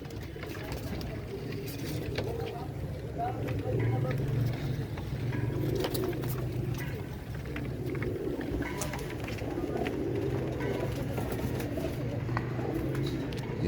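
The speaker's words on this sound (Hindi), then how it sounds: "कुरीज के अंदर है ये सब के सब कबूतर।" Several pigeons inside a coop coo steadily and softly in a low, murmuring chorus over a constant background rumble.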